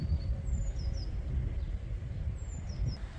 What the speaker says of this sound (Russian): Птички так поют.